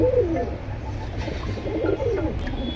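Pigeons in a pigeon loft give soft, rolling coos, one near the start and another about two seconds later, over a low background rumble.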